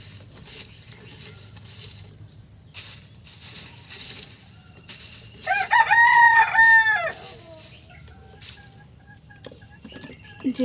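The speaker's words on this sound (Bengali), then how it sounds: "একটু পরপর কিন্তু মোরগ ডেকে ডেকে উঠতেছে।" A rooster crows once from a chicken coop inside a village kitchen, a loud, clear, rising call in the middle, with quiet household background before and after and no talking.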